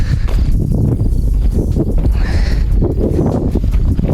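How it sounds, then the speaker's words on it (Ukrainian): A harnessed horse clip-clops its hooves on a rural field path, a loud, close, steady walking rhythm mixed with rustling and handling noise. "Батько вже он спраг коня, вже жде нас, щоб вирушати в путь."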